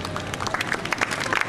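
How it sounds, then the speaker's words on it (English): An audience at a graphic expo claps, with scattered individual claps standing out over a light crowd murmur, moderately loud and brief. "About a big round of applause for ourselves."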